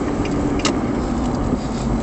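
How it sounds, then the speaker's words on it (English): A car drives through a university area at night, its steady road and engine noise continuous and fairly close, with a brief light jingle partway through. "So we're just driving through a university area."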